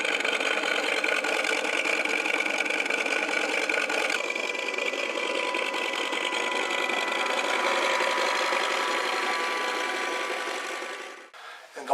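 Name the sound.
emulated engine sounds from RC model boat hull transducer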